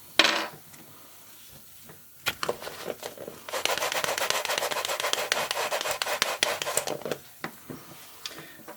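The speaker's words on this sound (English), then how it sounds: "Now we will clean the crystal gasket as well." A Timex watch's crystal gasket gets cleaned by hand, giving soft, close rubbing and scraping strokes, scattered at first and then a dense run of brisk friction for several seconds before it trails back into sparse, light scuffs.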